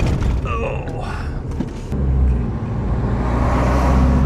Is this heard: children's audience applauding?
no